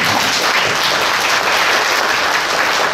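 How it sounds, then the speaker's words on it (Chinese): An audience applauds warmly for the Fubon team at a contract-signing ceremony, a dense, loud, steady patter of many hands clapping continuously throughout with no break. "我们给富邦团队蔡总掌声一下"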